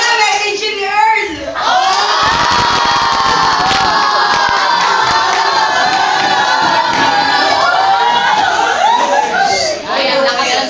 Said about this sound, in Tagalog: Ay, ang lakas ng sigaw, ha?